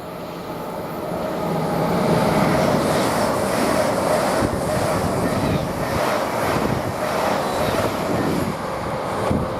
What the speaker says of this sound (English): Now we've got a LNER service to pass by London King's Cross to Leeds at 14:09.